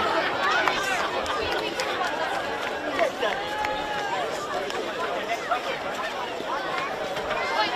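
Crowd chatter at a football match between Frenchville FC and Magpies Crusaders United, a steady babble of many voices with occasional calls and shouts rising above the general hubbub throughout.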